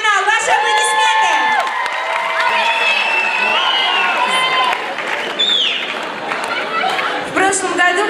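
A talent-show audience at a regional selection round breaks into cheering and applause, with shouts, whoops and children's voices rising over continuous crowd noise and hall music, loud and sustained.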